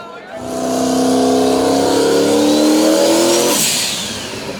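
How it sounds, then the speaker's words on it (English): A drag race car at a Canadian drag racing event roars past at the finish, its loud engine note rising and holding for a few seconds before fading away. A commentator talks over it. "Awesome race, awesome race. But Frank K is going to take the win in Tangerine Dream in the right lane"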